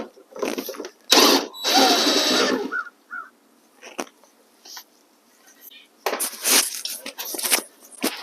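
A DeWalt drill driver backing screws out of a car fender on a 2022–2023 Honda Civic, heard in short whirring bursts separated by pauses, with some mechanical clicks and handling noise between them.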